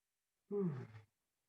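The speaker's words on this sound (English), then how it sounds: "Somebody is yawning." A single short, breathy yawn with a low voiced drawl, close and quiet, lasting about half a second in otherwise silent surroundings.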